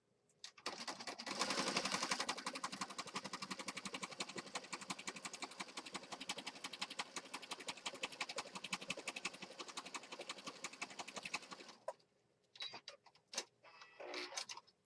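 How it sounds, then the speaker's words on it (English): A sewing machine stitching through paper runs steadily for about ten seconds with a rapid mechanical stitching rhythm, then stops, followed by a few faint handling clicks. "We're going to go to the sewing machine."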